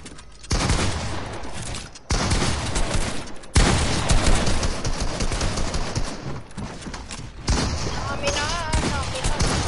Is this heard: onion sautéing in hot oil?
no